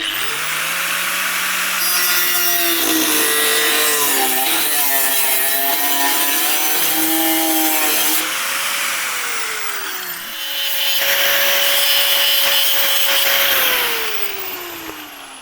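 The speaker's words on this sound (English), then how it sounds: "So get the grinder down along there, and then I'm going to cut up through there" An angle grinder cuts through rusty metal around the rear light cluster of a Mk2 Golf, a loud, steady, close-up whine with shifting pitch that runs almost without a break, easing briefly near the end.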